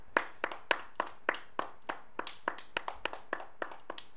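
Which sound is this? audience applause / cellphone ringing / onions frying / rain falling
audience applause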